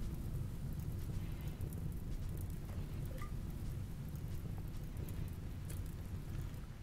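Steady broadband rain from the video game RimWorld, a constant hiss with low rumbling texture at moderate level, continuous throughout with no talking.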